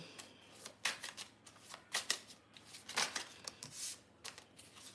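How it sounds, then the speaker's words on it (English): Tarot message cards are shuffled and drawn in a run of quick, crisp riffling bursts, close and fairly loud, with no talking. "Let me just get a few more message cards, okay?"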